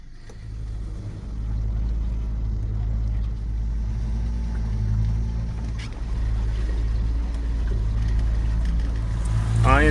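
An outboard motor on a shanty boat drones steadily near and loud, a low continuous engine rumble that swells slightly and ends with a rising surge and splashy wash.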